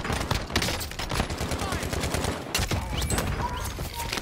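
Dense, loud gunfire rattles through a first-person shooter video game match, with sustained automatic bursts and overlapping shots and no pause.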